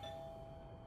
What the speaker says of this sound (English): It's just the doorbell.